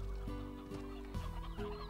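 Rooster clucking in the video game Slime Rancher, a few short clucks in a row close up, over a steady game background hum.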